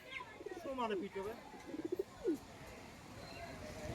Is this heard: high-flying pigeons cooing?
yes